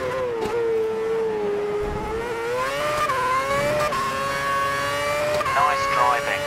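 A GP2 race car engine in the video game F1 2011 at Valencia drones steadily at high revs, pitch rising and dipping with gear changes, loud and close throughout.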